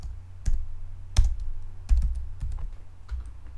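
A file name is typed on a computer keyboard while exporting a PCB design from Eagle to PDF: a handful of close, distinct key clacks at an uneven pace, each with a dull thump, alone without talk.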